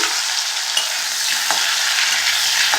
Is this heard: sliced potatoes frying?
yes